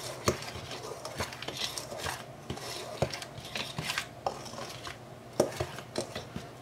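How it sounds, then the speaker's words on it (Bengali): Herbal medicine ingredients are stirred and mixed in a bowl, giving close scraping and clinking with irregular sharp taps over a steady rustle. "আমরা খুব ভালো করে মিশিয়ে দিচ্ছি"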